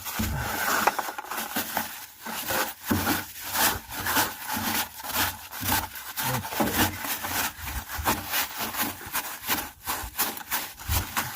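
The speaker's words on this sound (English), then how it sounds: "I actually got some rags. I'm going to clean it up real quick." A rag rubs and wipes inside the fuel tank of a Jeep Cherokee XJ, making rhythmic scrubbing strokes with a hollow, close, repeated back-and-forth swish and no talking.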